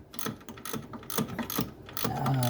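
Ratchet clicking as bolts are tightened on a 2016 Chrysler Town and Country during a transmission mount repair, with several short bursts of rapid ratcheting, close and fairly loud, with no talking.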